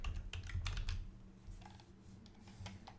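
Computer keyboard typing while editing a WordPress site menu, a cluster of crisp keystrokes in the first second, then sparser scattered key clicks over low room hum, no talking.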